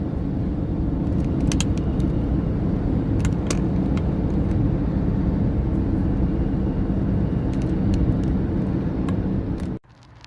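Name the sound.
car driving on a motorway at 100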